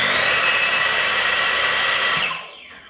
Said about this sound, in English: I'll just show you the motor starting up